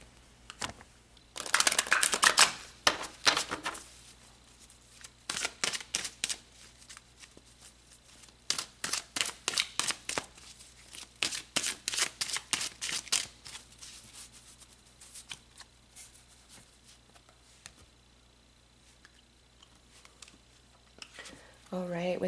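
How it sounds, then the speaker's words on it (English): Tarot cards are shuffled and pulled in several bursts of quick riffling and flicking, close and fairly crisp, separated by quiet gaps, with a brief voice at the end. "So let's pull some more cards and go deeper."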